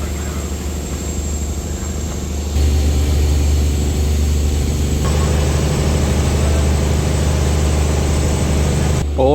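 A fishing boat's engine drones low and steady as the vessel speeds through waves, its heavy rumble jumping louder partway through and holding there. A constant hiss of wind and water rides over the throb, close and continuous.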